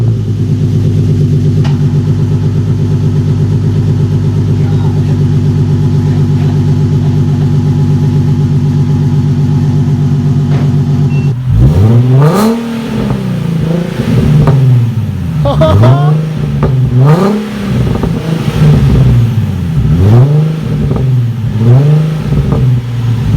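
Nissan 370Z Nismo with AAM resonated short tail exhaust, heard from outside: a steady loud idle drone, then a series of sharp rev blips rising and falling in quick succession, close and dominant.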